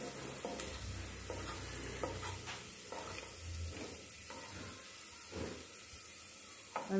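Chopped vegetables for a corn soup fry and sizzle quietly in a pan, with soft scraping stirs coming at irregular moments over a low, steady background.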